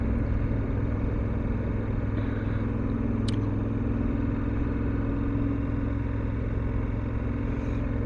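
A 2021 BMW F750GS TE motorcycle loaded with full luggage, riding on a Sunday afternoon, gives a steady, continuous engine rumble with wind noise throughout, unchanging in level and without any talk.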